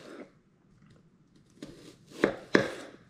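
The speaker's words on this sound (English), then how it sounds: "So the next thing we're going to be cutting here is the onion." A knife cuts through an onion on a board in a few close, crisp chops, two louder strokes near the end after a short quiet stretch.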